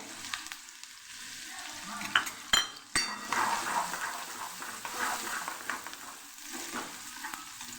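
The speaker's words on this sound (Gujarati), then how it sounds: "ડુંગળી જે બે સુધારીને લીધેલી આપણે અહીંયા ઉમેરી ઉમેરી દઈશું અને સરસ આપણે ડુંગળીને સાતડી લેવાની છે" Chopped onions tipped into hot oil with asafoetida and sautéed for Kathiyawadi gathiya shaak, giving a loud, steady sizzle, sharp utensil clanks against the pan early on, and stirring scrapes throughout, with no talk.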